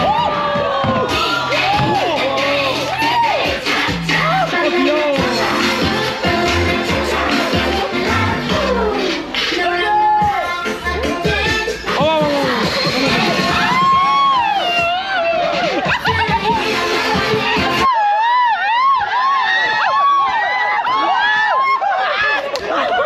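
A crowd at an opening dance performance on a Cebu trip cheers and whoops over loud pounding music, with shrill children's shouts and chatter mixed in throughout before the music drops away near the end.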